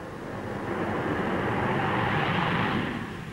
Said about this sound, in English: it's worth noting the maneuverability of this two-seater aeroplane